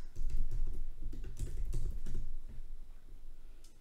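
Text is typed on a computer keyboard in a quick, irregular run of close, crisp key clicks that slows toward the end, with no talk.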